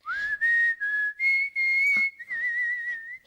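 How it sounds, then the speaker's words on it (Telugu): Someone whistles a wavering, fairly loud tune in several breathy phrases with short gaps between them, close up and otherwise alone. "ఏ విజిల్ అంత బాగుందా?"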